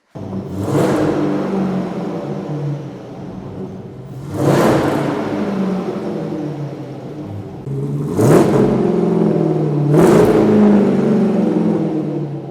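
A V8 car engine idles with a deep rumble and is revved hard four times, each rev climbing to a loud roar before dropping back.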